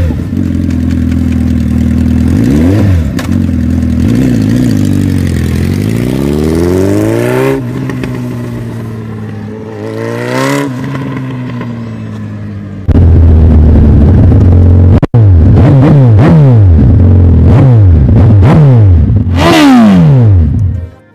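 Suzuki Hayabusa motorcycle with its silencers removed, revving hard in repeated loud bursts that climb and fall, each throttle blip rising sharply before dropping back to a deep, rumbling idle, close by with no talk.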